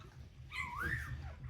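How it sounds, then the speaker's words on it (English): Newborn wolfdog puppy just out of its birth sack crying loudly, a single rising and falling whimpering wail, close up over low background rumble. "Nice loud puppy, that's what we like."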